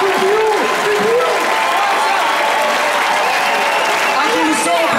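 Sustained applause from the crowd at a concert by an Italian band at Porta di Roma, loud and dense throughout, with a voice shouting over it.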